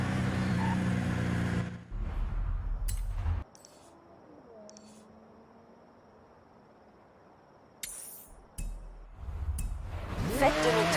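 An Aston Martin drives in Forza Horizon 5, its engine roaring loudly and then dropping out through a quieter stretch before surging back with revving and gear changes.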